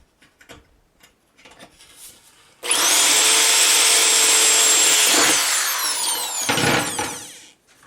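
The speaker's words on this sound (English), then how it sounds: "just to drill the first hole." A power drill starts up loudly, drilling through sheet metal of horseshoe beds, and runs steadily for a few seconds with a high whine, then winds down and stops with a brief rattle.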